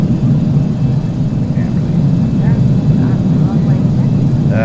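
A BAC 1-11 airliner on landing approach in a flight simulator drones with a steady, loud jet engine rumble that holds even throughout, while someone talks over it.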